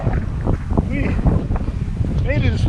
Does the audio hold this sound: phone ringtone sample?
no